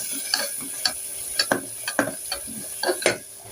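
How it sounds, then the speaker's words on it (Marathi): A spoonful each of Kashmiri red chili powder and garam masala sautéed in oil for Maharashtrian misal pav, heard as a soft sizzle broken by about a dozen sharp scraping strokes of a spoon against the pan. "हे सगळं परतून घ्यायचं एकदा तेलावर।"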